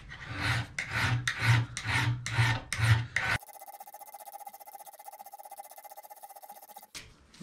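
Hand file rasping across the steel face of an auto body hammer, a series of loud, rhythmic back-and-forth strokes, then a steadier, thinner scraping that continues up close.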